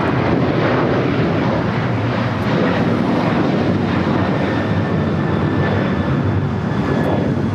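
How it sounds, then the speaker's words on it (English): Loud sustained jet roar from a Delta Boeing 737-900ER on its takeoff run at LAX, steady and dense throughout with some wind rumble, no talking. "1875 taking off to Los Cabos on the 737-900ER."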